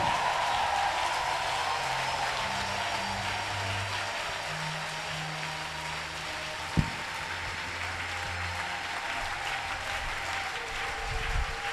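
Church congregation clapping continuously for several seconds, a dense even patter filling the room, with faint sustained voices and tones underneath and one sharp thump partway through.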